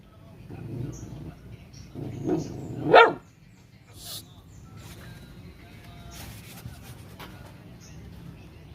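A pet dog gives a sharp bark or two around midway, close and brief, amid scuffling, shushing voices and household noise.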